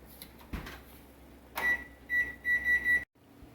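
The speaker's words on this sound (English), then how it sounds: "my 20-minute timer went off" A kitchen timer goes off while homemade bread bakes in the oven, giving a short series of thin, high electronic beeps in quick succession against a quiet room, with a soft thump just before them.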